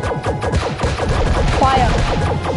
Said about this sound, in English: I'm gonna fire my yarn bombs.